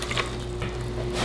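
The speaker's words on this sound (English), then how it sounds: "now I got some chicken broth here, or chicken stock. I'm just gonna pour that down in there" Chicken stock pours into a pot for duck gumbo, a short, steady liquid splash and trickle.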